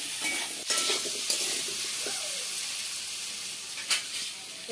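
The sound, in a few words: potatoes frying in oil with salt and turmeric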